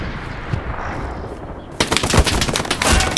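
Machine gun fire in the WWII shooter Hell Let Loose: a quiet stretch of distant ambience gives way to a sudden dense, loud rattle of rapid automatic shots continuing to the end.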